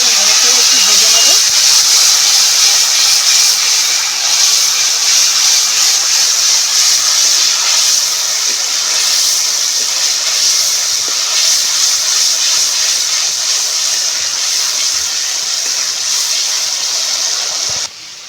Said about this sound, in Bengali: আর দিয়ে দিচ্ছি টমেটো পেস্ট। খুব ভালো করে নেড়ে চেড়ে একটু ভেজে নেব।